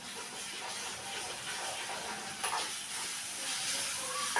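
Ginger garlic paste frying in a pan gives a steady hiss of sizzling that holds close and even throughout, with brief louder flares near the end.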